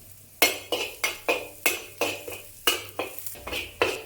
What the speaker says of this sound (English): Now add some more oil to the wok and saute the garlic until fragrant.